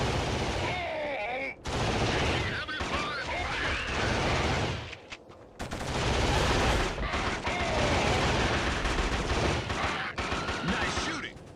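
Sustained heavy gunfire in a first-person shooter game on Sony hardware: dense, continuous rattling volleys and crashing shots with one brief lull, voices speaking over the barrage.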